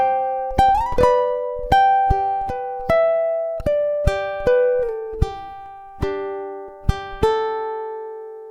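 Ukulele picking the melody of a song, measures 14 to 16: clear plucked single notes and chord strums in a steady rhythm, close and fairly loud, played alone with no talking.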